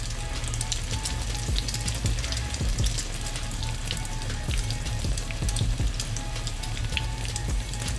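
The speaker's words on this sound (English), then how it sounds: "Saute up some onion and bell pepper." Onion and bell pepper sauté in a pan for pork fried rice, giving a dense, crackling sizzle with scattered pops that runs evenly throughout, fairly quiet and close.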